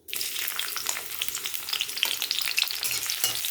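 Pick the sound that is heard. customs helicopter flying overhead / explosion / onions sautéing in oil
onions sautéing in oil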